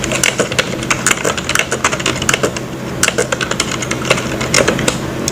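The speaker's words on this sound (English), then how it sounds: "I'm gonna type it again just to make sure that I can type it every single time" A password typed on a computer keyboard: a dense, close run of rapid key clicks with brief pauses between bursts.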